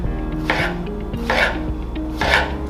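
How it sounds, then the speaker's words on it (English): A knife cuts zucchini diagonally on a board, three distinct slicing strokes spaced evenly, each a crisp scraping rasp ending in a soft tap, close up with a faint background hum. "use nice, even knife strokes so you get all the way through"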